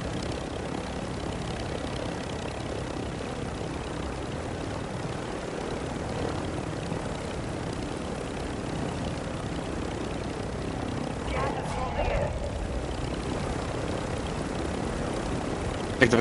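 Helicopter rotor and engine drone in a shooter video game, a steady broadband whir running throughout at moderate level with faint voices underneath.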